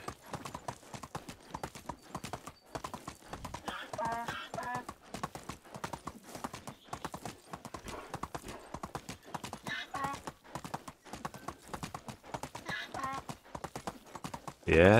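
Donkey hooves clip-clop in a steady walking rhythm in the video game Medieval Dynasty, with occasional louder stretches and brief snorts or whinny-like sounds over the plodding beat.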